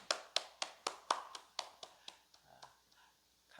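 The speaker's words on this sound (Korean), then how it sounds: "하나님 앞에 감사의 박수 올려드리겠습니다" About a dozen crisp hand claps in a steady rhythm from a church congregation, close and distinct at first and gradually fading to softer, sparser claps.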